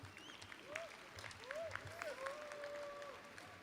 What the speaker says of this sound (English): You can applaud that, it's okay.